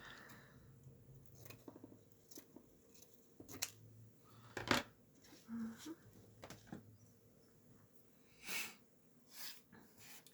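Scissors snip paper while shaping a small butterfly embellishment, a few short crisp cuts scattered between quiet handling noises, close and fairly faint.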